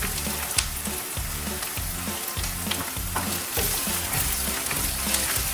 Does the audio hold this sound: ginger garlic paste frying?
yes